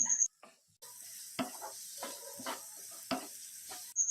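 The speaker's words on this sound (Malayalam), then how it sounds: "ഇനി തുടരെ ഇളക്കി നമുക്ക് ഈ സവാള ഒന്ന് വഴറ്റിയെടുക്കാം" Sliced onions sauté with ginger and garlic for a cutlet filling, stirred in a pan: a soft sizzle with several scraping, clinking strokes of the spoon against the pan, close and quiet, with brief gaps of silence.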